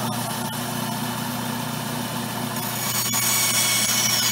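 An old Craftsman band saw running steadily, its motor hum droning evenly with a few sharp clicks and a slight rise in loudness near the end, no talking.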